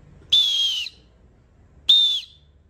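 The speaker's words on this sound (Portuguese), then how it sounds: "É um apito de alta frequência." Two bursts of a high-pitched whistle from a military multifunction survival compass kit, each blown for about half a second with a short gap between, loud and close, with no voices.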